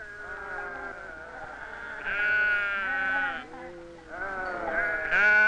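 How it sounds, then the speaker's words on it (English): Sheep at a country fair bleat loudly and close, with several overlapping wavering calls that rise and fall one after another with no pause. "There were some fine sheep at the fair."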